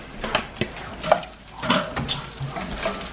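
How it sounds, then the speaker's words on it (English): Green beans tossed into a pan where bacon is heating make a quick run of close, loud clatter, with several knocks and rattles as they land and shift against the metal. "I'm gonna go ahead, I'm gonna toss my green beans in here"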